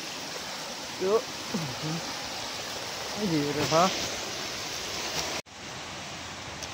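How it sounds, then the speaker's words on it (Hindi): Mandava Waterfall near Dharampur in Valsad pours down with a steady, broad hiss of rushing water throughout. Someone speaks briefly over it, and the background shifts abruptly near the end. "देखो यार बहुत खतरनाक झरना है वो देख लो।"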